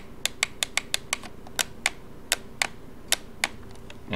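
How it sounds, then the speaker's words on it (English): The middle button of a trackball mouse clicks a dozen or so times, each press giving a sharp doubled click, at an uneven pace, close and clear over faint background hum. "So here you can hear it kind of making two click sounds instead of just inwards."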